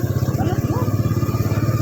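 Motorcycle engine idling or running steadily nearby with a continuous low pulsing throb, while voices talk over it.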